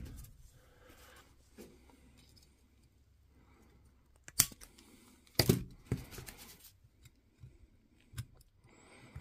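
Cutting a piece off with a snipping tool during an M18 battery cell replacement, a few sharp snips and clicks standing out from a quiet room, close and brief.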